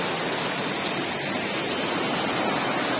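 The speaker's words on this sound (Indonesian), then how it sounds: "Aliran sungai ya." A river flows steadily beside a mountain hiking trail at a rest stop, a continuous rushing wash of water filling the whole clip with no breaks, loud and close with no talk over it.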